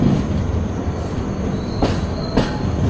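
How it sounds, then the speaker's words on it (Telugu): Prashanti Express pulling into platform 3 at Tadepalligudem station: a steady rumble of rolling railcars with two brief bursts of wheel squeal, heard alone without talk. "తాడేపల్లిగూడెంకి మన ట్రైన్ ప్లాట్ఫామ్ 3కి అయితే వచ్చింది."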